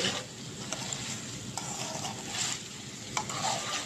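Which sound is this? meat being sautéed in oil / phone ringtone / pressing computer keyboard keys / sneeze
meat being sautéed in oil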